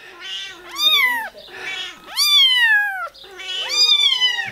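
A small cat meows three times, loud and close, each cry a long rising-then-falling wail with soft rustling between.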